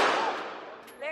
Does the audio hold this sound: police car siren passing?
no